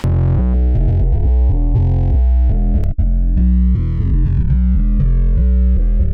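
A distorted synth plays a chord pattern while a sweeping Ableton phaser and flanger effect swirls through it, the tone rising and falling continuously.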